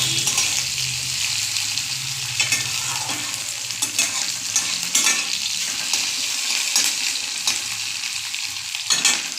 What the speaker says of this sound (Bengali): পেঁয়াজটা একটু লাল লাল করে ভাজা হবে, তারপরে আমি কুমড়োটা দিয়ে দেবো।